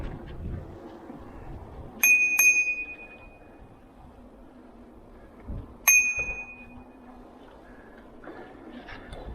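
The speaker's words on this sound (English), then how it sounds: "I'm supposed to ring the bell when I'm going around the corners" A bicycle bell on a mountain bike ride in England dings twice in quick succession, then again a few seconds later, sharp ringing tones over soft rolling background noise.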